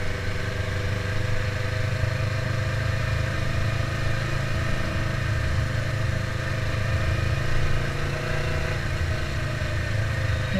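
A Yamaha R3 sport motorcycle's engine runs steady and close, holding a constant droning hum with a strong low rumble and a few slight swells, with no talking.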